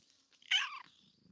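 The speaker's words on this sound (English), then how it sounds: "Can we get like a nice meow?" A single short cat meow, clear and close, rising then fading against a quiet background.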